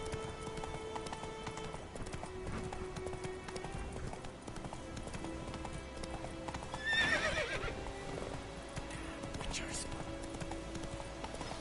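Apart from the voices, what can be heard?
horse Roach clip-clopping and neighing, from The Witcher video game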